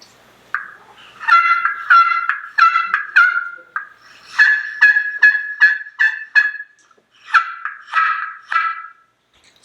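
Turkey pot call with a crystal striker surface over slate, producing a series of sharp, high, raspy clucks and yelps in short rhythmic bursts, loud and close against silence.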